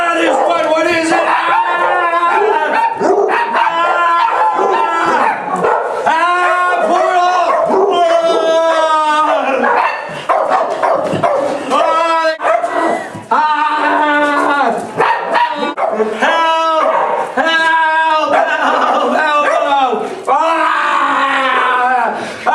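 Several dogs, including a chihuahua, bark and yip loudly and continuously at close range, overlapping in rapid, shrill bursts with people talking amid the noise.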